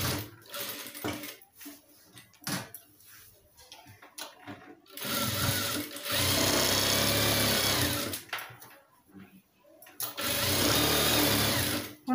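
A sewing machine stitching the neck of a blouse: loud, fast whirring runs of stitching broken by pauses, with someone speaking between the bursts.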